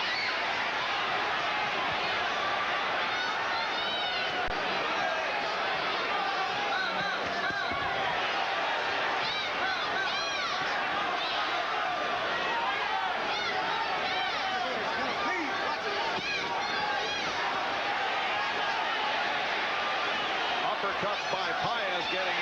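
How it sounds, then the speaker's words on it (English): A boxing crowd in a Sacramento arena during the 1990 Tony Lopez vs Jorge Paez fight roars steadily and loudly throughout, a dense unbroken wash of shouting and cheering with a commentator's voice running over it. "the crowd is screaming."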